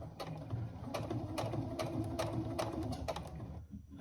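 Sewing machine stitching a tote bag, fairly quiet, with a rapid mechanical whir of repeated stitch clicks in short regular bursts, stopping near the end, with no talk.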